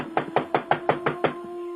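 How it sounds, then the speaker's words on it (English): Heavy banging on a door, six loud, evenly spaced blows in quick succession, close and alone over a steady background hum. "why are you banging so heavy?"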